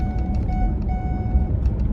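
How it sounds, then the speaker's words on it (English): A car's seatbelt warning chime beeps in steady repeated tones over the low rumble of the engine inside the cabin, with no talking. "I know y'all hear my seatbelt beeping"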